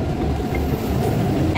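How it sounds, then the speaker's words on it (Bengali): A Kolkata Metro train pulls away from a deep underground platform with a steady, loud rumble. The low roar stays constant throughout, with a murmur of station voices in the background. "এই ট্রেনটা ছেড়ে দিল।"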